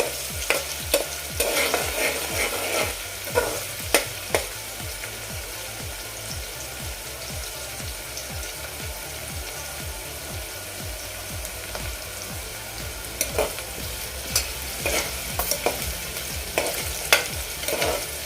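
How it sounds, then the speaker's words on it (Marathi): Onion sizzling in a hot pan while a spatula stirs it in steady, repeated scraping strokes; close and continuous, no voices. "कांदा ट्रान्सपरंट होईपर्यंत आपण परतायचा आहे"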